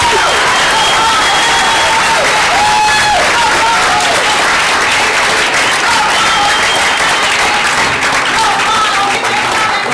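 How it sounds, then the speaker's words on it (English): A large crowd at a 2010 conference gives sustained, loud applause for a speaker, dense clapping with some cheering that continues evenly throughout. "let's give him another round of applause"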